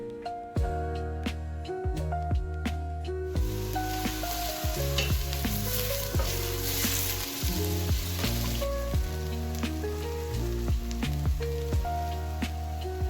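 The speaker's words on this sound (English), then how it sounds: "heat some oil in a large pot and sauté chopped onions until golden" Chopped onions sautéing in hot oil in a large pot for Saudi chicken kabsa, a steady close sizzle with repeated stirring and scraping clicks throughout, louder once the frying picks up.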